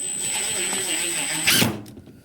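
A power drill drives screws into a wooden bottle cutting jig, a steady close whir with a high whine that ends in a short louder burst as the screw seats.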